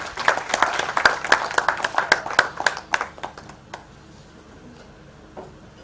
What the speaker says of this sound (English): Please, a big clap for her as she joins the podium.